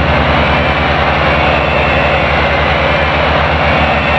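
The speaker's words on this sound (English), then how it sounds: "Racers, start your engines and let's get it on" Race car engines in the video game Rage Racer roar in a loud, dense, steady drone, sustained throughout with no pauses.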